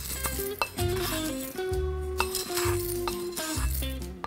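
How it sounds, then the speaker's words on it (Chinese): Toasted Sichuan peppercorns poured into a mortar, a series of bright clinking and rattling hits as the dry grains land, close and clear, with no talking. "拿出你心爱的研磨钵，倒入焙香的花椒粒"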